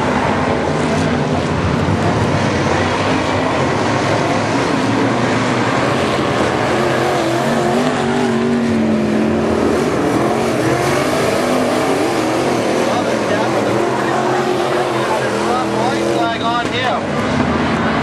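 IMCA modified race cars racing at Barona Speedway during a heat, engines droning loud and steady throughout with a track announcer talking over them.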